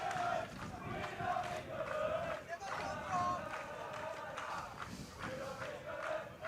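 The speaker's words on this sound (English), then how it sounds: "England crowds, got their signature chants going." Crowd of England supporters chanting at a lacrosse match between England and Czechia, a steady rhythmic roar of many voices heard from across the field, continuous and fairly loud throughout.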